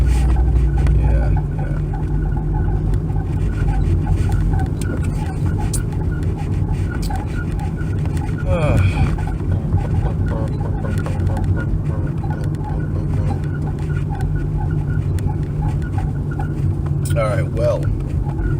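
Continuous low road rumble and engine drone inside a moving car, steady throughout with someone talking over it.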